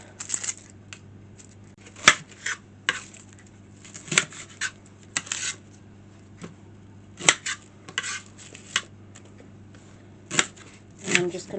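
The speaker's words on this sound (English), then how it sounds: "I'm going to cut up an onion and some garlic." A knife chopping a sprouting onion and garlic on a board: scattered sharp taps, some in quick pairs, others spaced seconds apart, close and fairly loud over a low steady hum.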